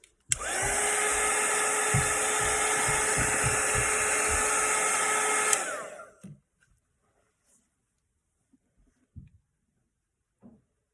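A handheld hair dryer drying watercolour paint on paper runs loud and steady for about five seconds, then shuts off and winds down, leaving near silence broken by a few faint knocks.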